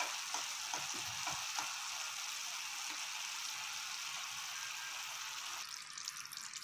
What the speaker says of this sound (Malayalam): ആ പഞ്ചസാര നന്നായിട്ട് തിളച്ച് വരുന്നുണ്ട്.